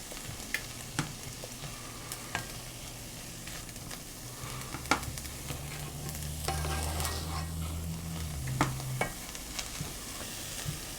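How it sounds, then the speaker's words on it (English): Peppers, onions and garlic sautéing in a pan for a vegan chickpea shakshuka, a steady close sizzle broken by repeated scrapes and clinks of stirring, with no talking. "probably saute it for another minute before I add in the other vegetables"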